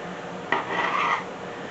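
A serrated knife saws once through a rolled log of puff pastry filled with ham and turkey, giving a short, close rasping scrape of about half a second.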